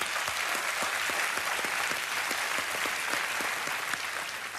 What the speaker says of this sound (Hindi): और तालियां।